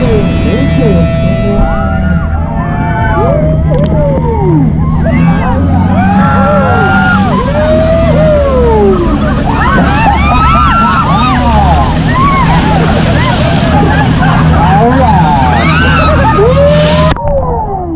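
A jet boat's engine drones loud and continuous while it runs on the Niagara River, with water rushing and sloshing against the hull, and a guide talks and passengers call out over the noise.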